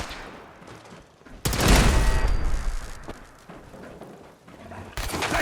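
Gunfire in the Fallout 4 video game, a sudden loud burst of rapid shots erupting after a quiet stretch, sustained for a few seconds before easing, then resuming near the end.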